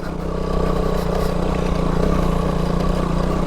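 A KTM Duke 200 motorcycle ridden off-road on a rough track without a proper road, its engine a steady, close, continuous drone with faint rattles and no pauses.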